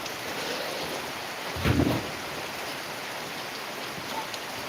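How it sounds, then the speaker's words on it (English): Steady hiss of rain falling outdoors, even and constant, with a brief soft thump partway through. "Here comes the rain again."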